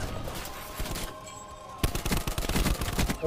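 Grav (Galil) rifle in Black Ops 4 gameplay: after a quieter lull, a rapid series of close, crisp gunshots breaks out in quick bursts that continue to the end.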